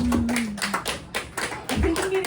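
Comedy club audience claps as a comedian is welcomed to the stage, a dense burst of applause that fades in waves and swells again near the end, with some voices mixed in.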